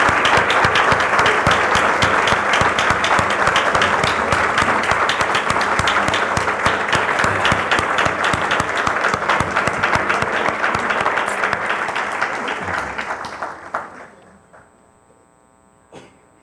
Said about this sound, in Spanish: Nuestro caluroso y cariñoso aplauso.